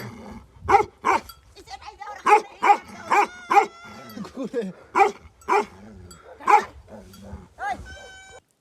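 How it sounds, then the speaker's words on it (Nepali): A dog barks repeatedly in loud, evenly spaced bursts nearby, with a few softer yelps in between. "हाम्रो कुकुर दाइ भुकिराख्नु भएको"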